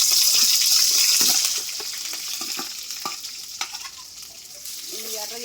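Onions sizzle in hot oil in a pan for a dried red chilli tamarind stew, a steady loud frying hiss that softens partway through, with a few faint scrapes and clinks and no talking.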